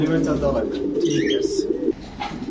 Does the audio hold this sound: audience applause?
no